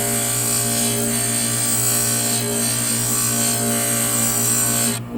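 A glass grinder runs against the edge of a piece of glass, giving a steady, loud motor whine with an even rubbing grind that holds constant before cutting off at the end.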